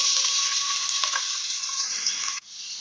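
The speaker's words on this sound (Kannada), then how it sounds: "ಈರುಳ್ಳಿನ ಚಂದ ಫ್ರೈ ಮಾಡ್ಕೊಳ್ಬೇಕು" Chopped onions hit hot oil in a pan and fry with a loud, dense sizzle, a brief clatter of stirring in the middle, and the hiss drops abruptly near the end.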